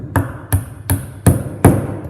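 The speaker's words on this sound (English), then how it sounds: "we're going to hammer that" Five sharp hammer blows driving a metal axle into a toy car's wheel, struck at an even pace about every 0.4 seconds, close and loud with brief ringing after each hit.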